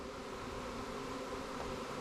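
A dense, steady buzzing of a honey bee swarm, continuous and fairly faint, with no voices.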